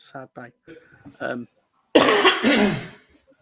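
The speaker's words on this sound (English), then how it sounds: "I've got a bit of a cough in case you haven't realised by now" Someone speaks briefly in short bursts, then gives one loud, harsh, close cough lasting about a second before the clip fades to quiet.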